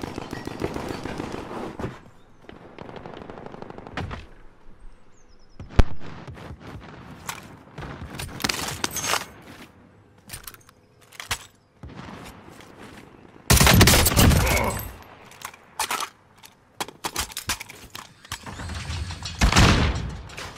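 Video game gunfire from a shooter plays out in sharp bursts and rapid automatic volleys, some single cracks and some long loud strings, with quieter gaps between engagements and no voices.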